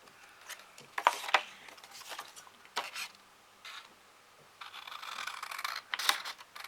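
Scissors snip through folded paper card in a few short, crisp cuts up to the first fold, close and fairly quiet, with light rustling and handling noises between the cuts.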